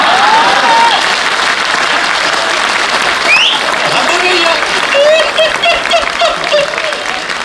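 Steady applause from an audience at a Hindi comic poetry recital (kavi sammelan) for lawyers at Tis Hazari, loud and continuous throughout, with brief voices and a faint whistle-like call rising above the clapping.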